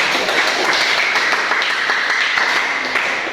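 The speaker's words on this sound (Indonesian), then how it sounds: "Beri aplaus untuk si Ryan" Applause from a university classroom audience for a student named Ryan, a dense, steady burst of many hands clapping together that fills the short moment without a break.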